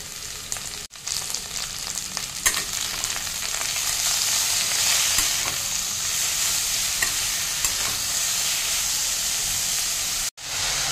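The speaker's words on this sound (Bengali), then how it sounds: "এবার ভালো করে কষিয়ে নেব।" Cauliflower and peas with salt, turmeric and jaggery being stir-fried in a pan for a Bengali chorchori: a continuous, loud sizzling hiss with scraping stirs and occasional clanks, close up, with no voices.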